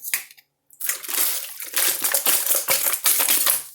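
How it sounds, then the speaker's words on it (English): Water poured into a pot to cover yellow squash, a steady splashing pour that starts after a brief pause and runs loud and close, with uneven surges of gushing and bubbling. "so now we're going to cover this squash with water"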